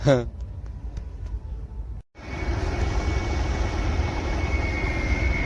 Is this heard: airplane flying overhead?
yes